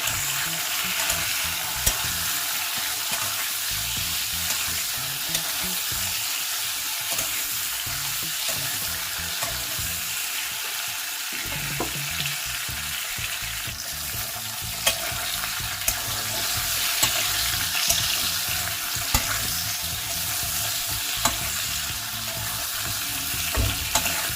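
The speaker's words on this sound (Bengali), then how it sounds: "আলু আর কাঁচকলাটা আমি একসঙ্গে বেশ ভেজে নেব।" Potato and turmeric-coated green banana pieces frying together in mustard oil in a kadai: an even, close sizzle broken by spoon scrapes and occasional sharp clinks against the pan, without any talking.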